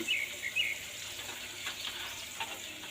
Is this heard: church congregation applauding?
no